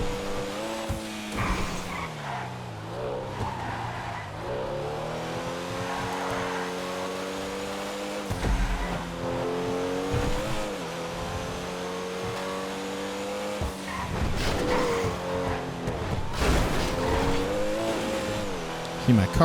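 Tires squeal and slide while a race car in the video game GTA Online revs hard, the engine note rising and falling through repeated gear changes and skids, loud and continuous with the driver talking over it.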